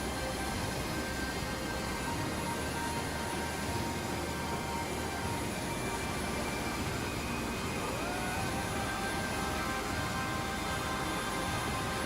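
Aircraft engines in a video game hum in a steady, broad jet roar, moderately quiet and unbroken, with a faint rising tone drifting through partway along.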